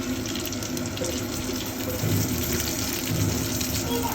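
Water poured into a cooking pan of frying onions and spices makes a steady, close rushing splash that lasts about four seconds.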